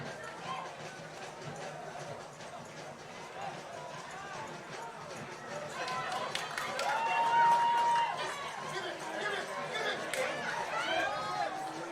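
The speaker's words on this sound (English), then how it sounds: "Crowd urging on Stockade down the left flank" A soccer crowd cheers on Stockade FC during a conference championship match against Hartford City, with broad crowd noise swelling in the middle, some whistles, and a commentator's voice over it.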